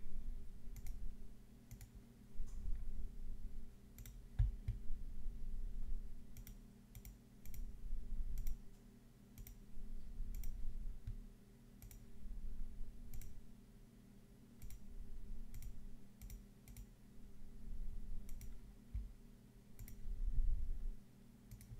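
Sharp, scattered mouse clicks while a polygonal lasso selection is traced around a window in Photoshop, each click brief and fairly quiet, spaced irregularly over a low steady background hum.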